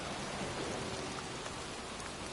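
Steady rain falls outdoors in a cemetery, a dense, even hiss of drops on surfaces that stays loud and unbroken throughout, with no voices.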